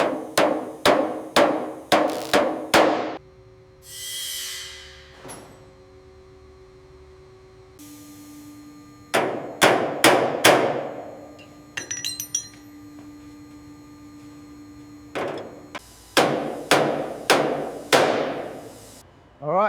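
Sharp metallic hammer strikes on the rear suspension mount of an abandoned Range Rover under restoration, falling in quick bursts of five or six ringing blows separated by pauses, loud and close, with a steady hum between bursts.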